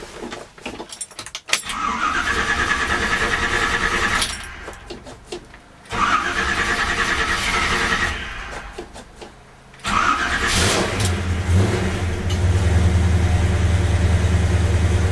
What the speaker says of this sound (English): So I'm going to do you a Carolina cold start.